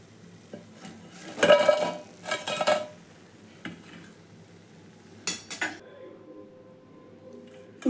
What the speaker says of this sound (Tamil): எண்ணெயை நல்லா வடிச்சிட்டு இப்போ நான் வேறு பாத்திரத்துக்கு மாற்றுறேன்